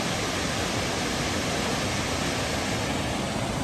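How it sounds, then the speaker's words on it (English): A big waterfall on the Foothills Trail roars as a dense, steady rush of white noise, loud and unbroken throughout with no voices. "That's a big waterfall."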